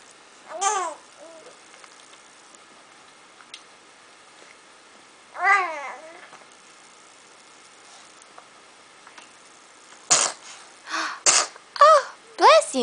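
A baby girl sneezes in a short burst, with soft babbling and cooing before and between, while an adult voice speaks quietly nearby.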